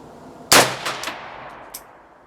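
Romanian RPK MD64 machine gun fired outdoors: one sharp, loud report followed by a ringing echo and a few fainter trailing cracks and clanks that fade away over a couple of seconds.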